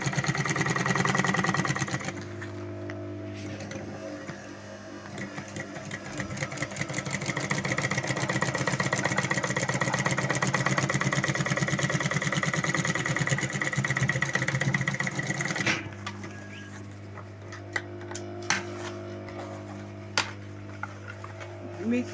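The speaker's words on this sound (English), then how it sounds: "So you sew it from this end." Sewing machine stitching a fabric handbag, a steady motorized whir running continuously for about thirteen seconds, then stopping as a lower hum continues, fairly close and moderate in level, with no talk over it.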